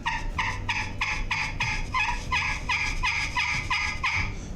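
A handheld turkey call imitates a gobbling turkey, with about a dozen rapid, loud, evenly spaced gobble bursts running continuously and up close.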